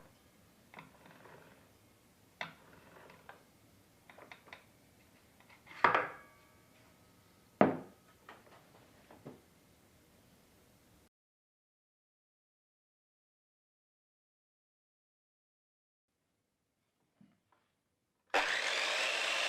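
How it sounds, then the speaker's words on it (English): A Triton TA235CSL 235mm circular saw blade is turned by hand, giving a string of irregular knocks and clicks at close range, then a pause and a sudden loud, steady whir at the very end. "turn the blade by hand a few times to"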